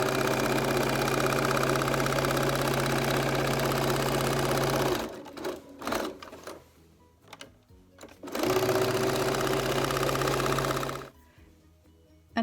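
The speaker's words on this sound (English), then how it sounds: "And sew down your L-shaped seam" A sewing machine stitches a zigzag L-shaped seam on a wash bag, running in two loud, steady bursts of about five and three seconds separated by a pause with faint handling noises.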